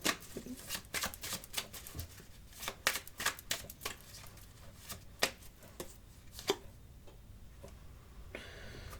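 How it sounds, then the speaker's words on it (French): Tarot cards are shuffled and drawn close up in a quiet room, with rapid riffling flicks and card taps in an irregular rhythm that trail off into near silence toward the end. "je vais juste tirer une carte moi-même."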